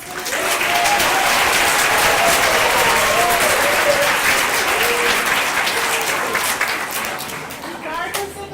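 Loud audience applause at a school assembly for kindergarten performers, a dense burst of clapping with faint cheering over it that swells quickly, holds, then fades away near the end.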